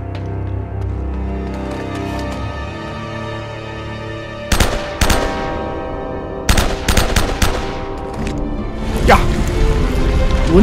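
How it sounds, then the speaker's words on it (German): Machine gun bursts in Uncharted: Drake's Deception crack out in several loud, sharp volleys spaced over the stretch, over a low rumbling game backdrop with ringing tails after each burst. "Es lebe das Maschinengewehr."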